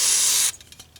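Brake parts cleaner sprays onto a 1998 Honda CBR carburetor in a short, close, loud hiss that cuts off after half a second, leaving faint handling noises.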